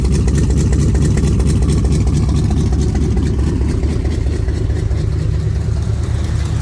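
A V8 engine in a Chevy G506 truck, noted as having a junk block and an exhaust that is not blowing right, idles loud and close with a steady, heavy low rumble throughout.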